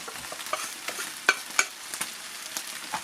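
Beef and flour are mixed and browned in a pan for a slow cooker stew, giving a soft sizzle with regular scraping strokes of the stirring utensil and a couple of sharper clinks.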